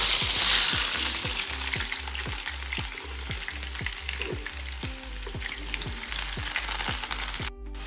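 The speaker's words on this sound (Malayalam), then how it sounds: "ഇനി ഗാർണിഷിനായിട്ടുള്ള ഉള്ളി പൊരിക്കുന്നത്" Sliced onions fry in hot oil as a garnish for fish biryani, a close, continuous crackling sizzle with soft stirring scrapes, and nobody talks.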